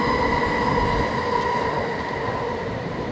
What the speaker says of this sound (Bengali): এই স্কাই ট্রেনটা শুধু ভ্যানকুভারে আছে